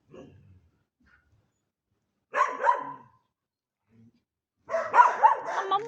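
Several dogs bark in two separated bursts, the second one longer and denser, after a short faint sound at the start and quiet gaps between.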